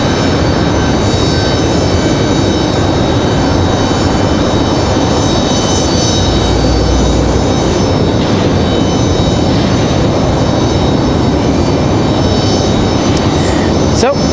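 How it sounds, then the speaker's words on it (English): A WestJet Boeing 737-800 airliner moving on the ground at Raleigh-Durham airport gives a loud, steady engine roar that fills the whole stretch without pause and never fades. "WestJet about to pop out from behind the terminal there."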